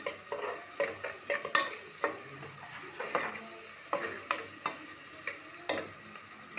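Onions frying with salt in a pan, a spoon scraping and tapping against the metal in a steady rhythm of about a dozen strokes over a faint sizzle.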